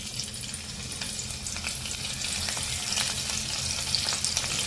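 Grated ginger and green chili fry in hot oil for egg fried rice, giving a steady close sizzle with faint crackles and a few stirring scrapes, no voices.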